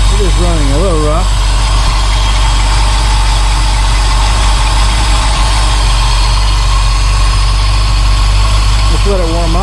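A 1972 Mercedes-Benz 280SE 4.5 engine idles rough, a steady close rumble running through the whole stretch, with a voice speaking briefly at the start and again at the end.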